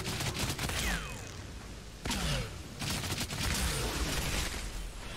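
Rapid bursts of gunfire from the video game Outriders, loud repeated volleys with brief gaps between them and no talk.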